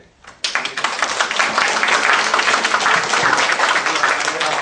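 An audience bursts into applause at the opening ceremony of a Taiwanese-language workshop in Boston, the clapping rising sharply and then holding as a loud, dense crackle of many hands.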